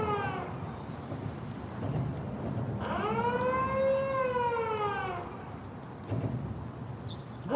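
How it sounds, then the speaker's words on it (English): Railway drawbridge warning siren sounding outdoors, a rising then falling wail that swells from about three seconds in and fades near the five-second mark, with fainter tonal bursts before and after over steady background noise. "As you can clearly hear, the bridge siren is sounding."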